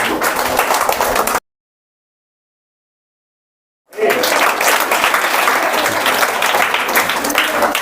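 At a government model primary school farewell ceremony in Kadakola, a crowd claps loudly, breaks off abruptly into silence, then starts again, the dense applause continuing steadily.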